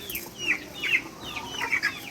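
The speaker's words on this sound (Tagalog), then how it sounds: "at mag-feed muna tayo ng mga chicken" Rhode Island Red chickens cluck in short, repeated bursts at a farm feeding time, several clear calls close by with no talking.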